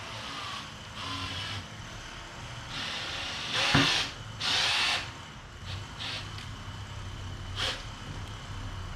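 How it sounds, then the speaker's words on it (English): A power screwdriver whirs in short bursts, several brief spins with pauses between, close by over a low background hum. "I like using a screw gun."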